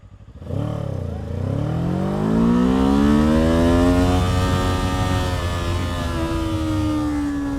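A Kawasaki hybrid Ninja motorcycle launches from a standstill with electric-motor assist, its engine note rising sharply after a brief dip and then holding a strong, steady whine, loud and close with no talk.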